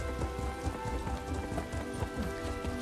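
Steady rain in the video game Elder Scrolls Online, a dense continuous patter of drops across the whole stretch, fairly loud and close, with no voices over it.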